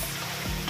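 Pansit canton noodles seasoned with pepper and oyster sauce being stirred in a frying pan, a brief, close, continuous sizzle with a soft scraping shift near the middle.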